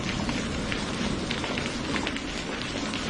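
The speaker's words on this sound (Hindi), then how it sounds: "बारिश अब थमने का नाम नहीं ले रही, नीचे पानी ही पानी है।" Heavy cartoon rain pours steadily in a dense, even hiss of drops hitting surfaces, loud and continuous throughout with no voices.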